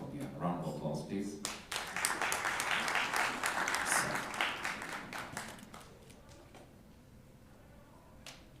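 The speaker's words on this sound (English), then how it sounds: "A round of applause, please." Attendees at a strategic plan launch event applaud, a burst of clapping with distinct individual claps that builds, then thins out as a voice speaks over the fading sound.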